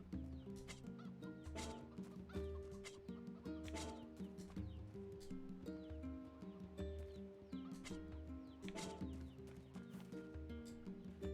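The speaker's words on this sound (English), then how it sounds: "Chill chicken." Game audio from Nier Replicant with a chicken clucking over a busy mix of looping music and overlapping ambient effects, steady and moderately loud throughout.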